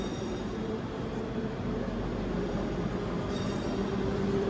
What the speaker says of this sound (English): we've got a 385 departing down there